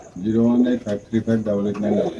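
Close racer pigeons cooing in repeated low, throaty phrases, a few calls in a row with brief pauses between them.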